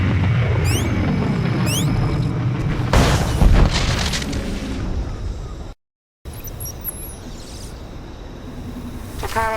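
Explosive booms and blasts in the video game SWTOR, a heavy rumbling detonation swelling midway amid continuous rumbling effects, loud and close, with brief high chirping game sounds, a sudden short cut to silence, and a faint voice.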